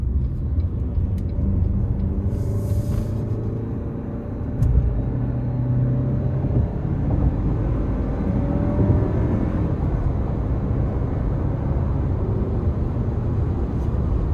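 A 2025 Toyota Highlander Limited AWD with a turbo four-cylinder accelerates up to speed, its engine a loud, steady low rumble and drone heard from inside the cabin, rising slightly in strain with no talking.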